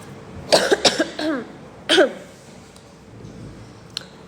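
A person coughs in a quick burst of three or four sharp coughs, then one more cough after a short pause, close and fairly loud against a quiet room.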